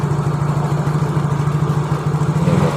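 A motorcycle engine runs close up with a rapid, even pulsing chug, holding near idle and swelling slightly toward the end as throttle is applied.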